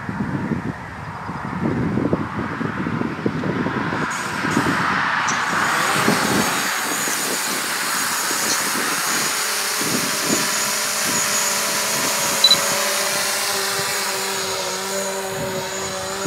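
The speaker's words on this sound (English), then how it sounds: "let's start off by putting the Mavic up in the air" A DJI Mavic Pro drone hovers outdoors in wind, giving a steady high buzzing whine that holds level throughout. Wind rumble and handling noise sit under it at first, with no talking.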